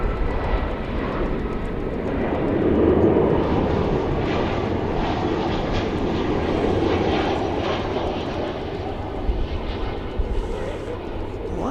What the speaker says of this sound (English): Flight 2505 American Airlines? An Airbus A320.